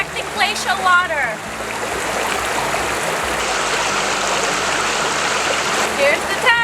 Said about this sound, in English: Glacial water.